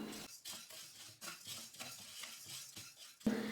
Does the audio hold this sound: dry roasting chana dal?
yes